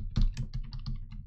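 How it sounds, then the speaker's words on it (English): Rapid, irregular keystrokes on a computer keyboard while typing text on a Linux Mint 19.2 desktop, close and fairly loud over a low background hum, with no talking. "you can type your letters or whatever you want to do"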